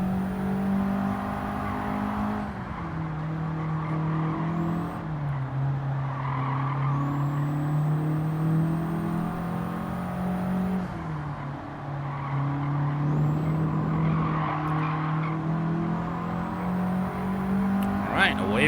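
A turbocharged race car in Gran Turismo 7 on the Nurburgring, its engine droning loud and steady through repeated gear shifts and pitch climbs, with a turbo whistle over the top and tire squeal mixed in.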